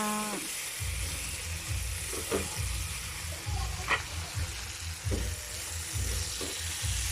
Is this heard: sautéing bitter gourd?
yes